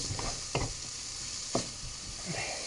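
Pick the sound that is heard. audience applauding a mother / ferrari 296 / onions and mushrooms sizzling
onions and mushrooms sizzling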